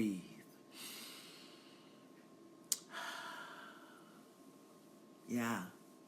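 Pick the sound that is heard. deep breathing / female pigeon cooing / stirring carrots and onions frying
deep breathing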